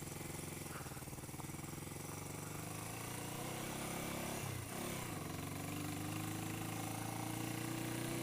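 A 1980 Yamaha XS400 Special II motorcycle engine runs close by with a steady, throbbing mechanical drone, briefly rising and falling in pitch as it is revved midway, then settling back into a continuous loud rumble.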